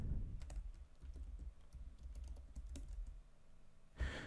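Keys on a computer keyboard tapped in an irregular run of clicks while entering a password, close and fairly quiet, with a louder clack near the end.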